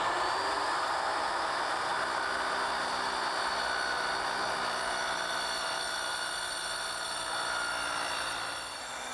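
A power saw plunge-cutting along the grain of plywood makes a steady, fairly loud whining drone with a high motor tone, running continuously for about nine seconds before easing slightly at the end, with no talk.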